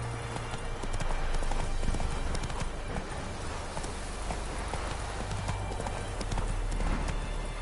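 Hooves pound in a fast, unbroken gallop as a horse runs in The Witcher 3, loud and close, with a brief whinny-like tone and no clear talk.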